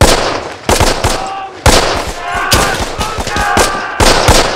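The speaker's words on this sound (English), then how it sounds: "And they've also got heavy machine guns, obviously." Heavy machine gun fire in a World War II drama series, a chaotic spread of loud sharp bangs and bursts in irregular rhythm, close and dense, mixed with battle noise.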